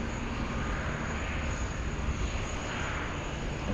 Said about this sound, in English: This is the EFR freighter, the Qantas 767 300